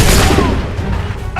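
A musket volley from a line of soldiers in an Assassin's Creed game goes off as one loud, rolling burst of gunfire, then trails into a fading rumble.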